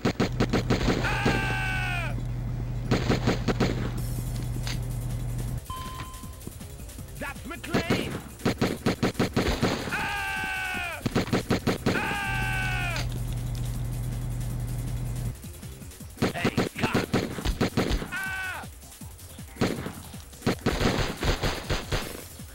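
Gunfire in Die Hard Trilogy on the Sega Saturn, with bursts of rapid shots alongside warbling game effects and screams, loud and close over a steady electronic hum.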